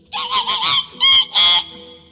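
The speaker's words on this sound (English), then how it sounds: "The birds shrieked with glee." Loud, harsh honking shrieks from birds, several quick calls in a burst followed by two longer ones, close and unaccompanied.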